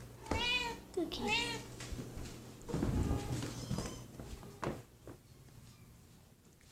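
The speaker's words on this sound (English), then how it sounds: "Kitten's somewhere in here." A kitten gives two clear, close meows early on, then faint rustling and movement noises follow.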